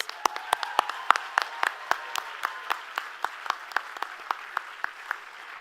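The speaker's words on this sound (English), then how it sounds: "let's give a big round of applause to all our lead sponsors" Applause at a children's charity benefit gala honoring lead sponsors, a crowd clapping under a few sharp, loud individual claps that punctuate the steady patter at an irregular beat throughout.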